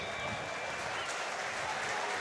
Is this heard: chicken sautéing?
no